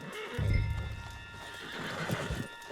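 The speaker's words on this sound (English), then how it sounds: "Put Strauss on the back of John's horse and let's get out of here" A horse in the Red Dead Redemption II video game gives a clear whinny over hooves clip-clopping at close range, with a low rumble of game ambience under them.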